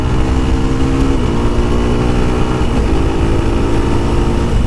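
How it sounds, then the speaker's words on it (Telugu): A 2025 Apache RR310 motorcycle upshifting with a quickshifter and no clutch, a loud steady engine drone close by, its pitch climbing and then dipping at brief gear changes. "చూసారా నేను పైకి వేస్తున్నాను గేర్స్, ఫోర్త్ గేర్కి వచ్చింది."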